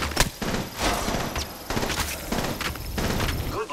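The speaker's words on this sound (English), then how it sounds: "Taking fire." Rapid bursts of automatic gunfire crackle through a firefight in the mobile shooter Apex Legends Mobile, with sharp repeated volleys and dense, continuous shooting over the whole stretch.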